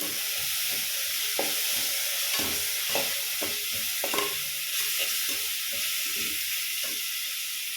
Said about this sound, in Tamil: புதினா, கொத்தமல்லி, பட்டை இதெல்லாம் போட்டு அரைச்சி வச்சுருக்கோம், அதையும் சேர்த்து நல்லா வதக்கிக்கலாம்